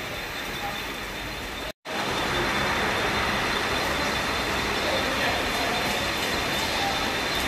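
A suburban train ride from Panvel to Airoli, with a constant loud rumbling of the moving coach and a brief cut near the start, with no talk.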